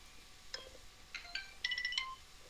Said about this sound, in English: That was my notification on my phone there in the background